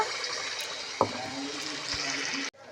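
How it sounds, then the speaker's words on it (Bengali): Flour pitha dropped into hot oil sizzles with a steady, bright frying hiss, with a short sharp splash near the start; the sound cuts off abruptly near the end. "তো তেল আমার গরম হয়ে গেল। তো এখন দেখি তেলে ছাড়ে দিই আমার ময়দার পিঠাটা কীরকম হচ্ছে"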